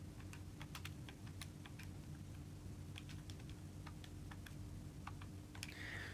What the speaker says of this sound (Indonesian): sebentar, salah nih kalkulator gua.